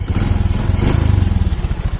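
A Honda Supra 125 motorcycle engine idles close up with a steady, rapid putter and a faint mechanical clatter throughout.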